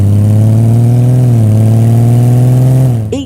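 Honda Goldwing motorcycle with a 1,833 cc flat-six engine, running loud and close with a smooth, steady hum that dips slightly in pitch midway, then cuts off abruptly at the end.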